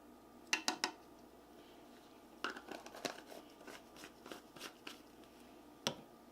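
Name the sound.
stirring gold mica into soap batter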